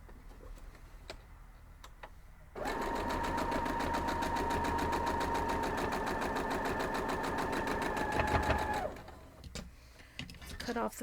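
A sewing machine stitches diamond star quilt block pieces in a steady, fast, even whir that runs for about six seconds, with soft clicks and handling noises before and after.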